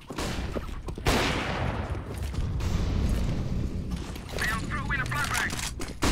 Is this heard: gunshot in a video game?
yes